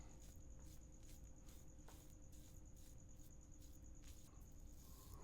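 An indoor cricket chirps steadily in a studio, a faint, high, regularly pulsing trill repeating throughout over a low background hiss.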